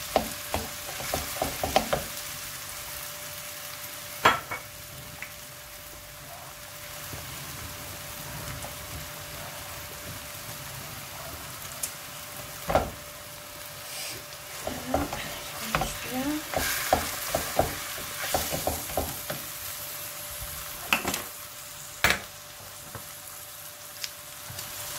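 Ground meat and onion fry in a hot pan while being stirred: a steady crackling sizzle runs throughout, broken by irregular scraping and knocking strokes, close up, with no voices.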